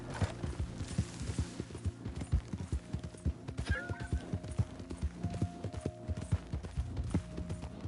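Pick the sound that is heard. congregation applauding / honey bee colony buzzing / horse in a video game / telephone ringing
horse in a video game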